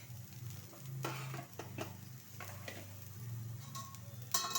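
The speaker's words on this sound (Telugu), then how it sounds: "వేసేసుకొని మనం దీని మీద దోశ వేసుకొని మీడియం ఫ్లేమ్లోనే పెట్టేసుకోవాలి" Rava dosa batter sizzles faintly on a hot oiled pan over medium flame, a soft steady crackle with a few light scraping clicks, no talking.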